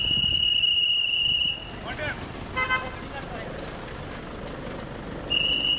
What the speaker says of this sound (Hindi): घर घर सीटी बजाते हुए रोड में जाता है, उन लोग को मालूम पड़ता है हमें आया कचरा लेने के लिए